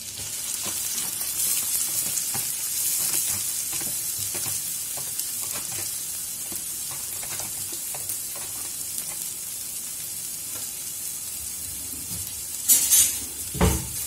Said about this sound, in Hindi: प्याज को गोल्डन होने तक भूनते रहेंगे।